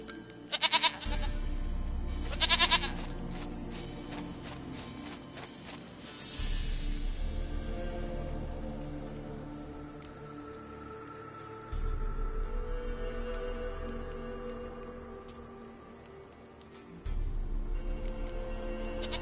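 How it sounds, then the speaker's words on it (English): Goats bleat in the video game The Witcher 3, a few sharp nasal calls near the start amid layered ambient drones and a low throbbing tone that repeats in long swells, with no talking. "Goat of mine, dearest, sweetest goat."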